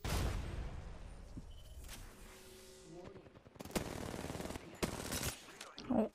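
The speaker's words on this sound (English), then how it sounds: "Oh my god, where are my shots going?" Video game gunfire crackles in rapid bursts and separate volleys, loud close shots interrupting quieter game ambience.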